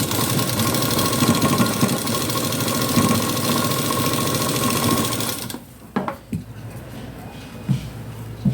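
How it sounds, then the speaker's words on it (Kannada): A sewing machine stitching the front part of a blouse runs with a steady, loud mechanical whir for about five seconds, then stops abruptly, leaving a few faint clicks and handling noises. "ಕೆಳ ಸೈಡ್ ಕೂಡ ಗುಬ್ಬಿ ಪಟ್ಟಿ ಮೇಲೆ ಒಂದು ಸ್ಟಿಚ್ ಹಾಕಿ"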